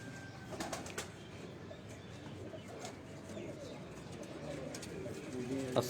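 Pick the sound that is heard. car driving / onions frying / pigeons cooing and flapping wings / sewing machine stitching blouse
pigeons cooing and flapping wings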